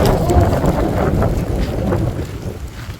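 Morning wind buffets the microphone in a steady, loud rumble that lasts throughout, with low gusty roar and no talk.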